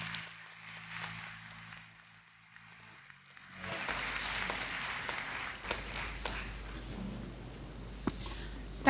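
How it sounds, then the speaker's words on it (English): Scattered applause from a convocation audience at a medical college ceremony honoring postgraduate students, starting faint then swelling into steady clapping with a low hum and some murmuring. "A big round of applause for the postgraduate students."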